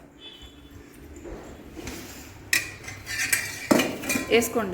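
A spoon scrapes and clinks against a pot while mushroom rice is served, soft metallic taps growing louder and busier toward the end, with a brief spoken word near the start.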